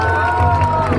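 Audience at a Miss India pageant event at a university hall applauds and cheers, a dense, steady wash of clapping and crowd noise filling the full second.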